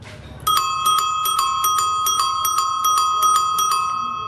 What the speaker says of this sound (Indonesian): Belnya bagus kan, kayak piringan.